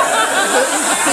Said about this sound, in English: Are y'all hissing?